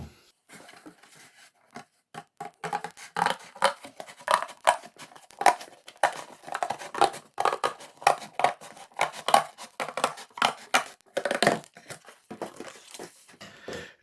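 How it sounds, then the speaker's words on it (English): Scissors snip through cardboard along a straight line in a quiet room, a close, steady series of crisp crunching cuts with short pauses between strokes. "I'm just going to cut along this line, along the flap"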